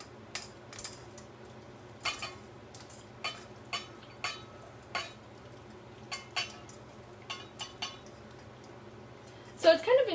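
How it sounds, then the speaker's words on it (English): Ahi tuna poke gently tossed with avocado in a bowl, a run of soft, evenly spaced clinks and scrapes of a utensil against the bowl under a low steady hum, ending with a slightly louder clatter. "now we are to gently mix this all together, taking care not to smush the avocado"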